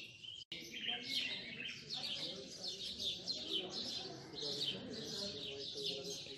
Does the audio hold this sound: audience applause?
no